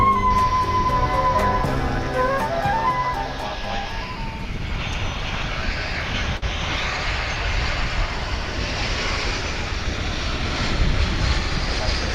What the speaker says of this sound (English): when you look at this volume of planes coming in and out